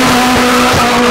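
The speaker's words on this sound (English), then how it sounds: "Car had an amazing sound there." A rally car doing donuts roars up close and loud, its engine and exhaust holding a steady high-revving drone throughout the short burst.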